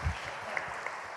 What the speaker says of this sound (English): Can we give them a round of applause and a welcome?